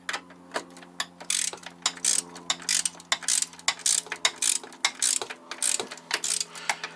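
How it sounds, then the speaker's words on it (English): A 10mm ratchet tightens a bolt on a VW MK4 bracket, rattling off a long run of rapid, crisp clicks in repeated bursts, close and clear with a faint steady hum beneath and no talking. "We're gonna grab our 10mm here. We're gonna lock our bolt into place."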